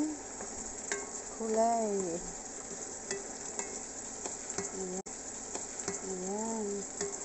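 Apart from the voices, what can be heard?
stirring chicken wings adobo in a pan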